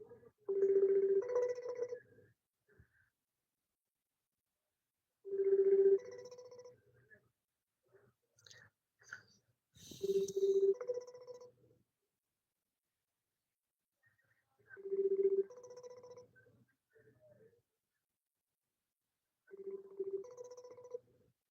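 A phone call rings out unanswered: a faint ringback tone repeats in five evenly spaced bursts about every five seconds, with near-silence between them.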